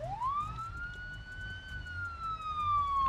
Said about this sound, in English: Hear sirens going off.